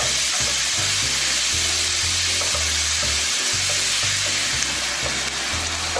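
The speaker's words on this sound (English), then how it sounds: "we're going to mix it up and let it cook" Spicy beef and asparagus fry loudly in a pan while being stirred, a dense constant sizzle with rhythmic low scraping strokes repeating throughout, and no voices.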